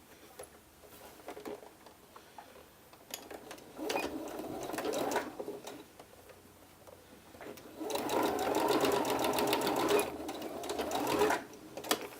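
A domestic sewing machine stitches the finishing seam on a blouse sleeve in two sustained bursts of rapid, steady whirring, separated by quieter handling noises and a soft click at the end.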